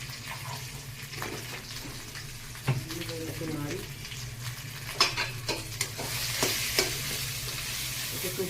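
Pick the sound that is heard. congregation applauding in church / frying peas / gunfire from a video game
frying peas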